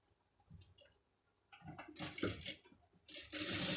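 A sewing machine stitches a sleeve design in short, close bursts of rapid needle clatter, starting with quiet clicks and building to louder runs of stitching separated by brief pauses.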